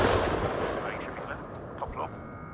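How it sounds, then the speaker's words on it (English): A grenade explodes in the VR shooter Onward during a World Cup match, a loud, close boom with a long rumbling decay, while commentary voices talk over it. "Here comes the nade. Perfect from EJ."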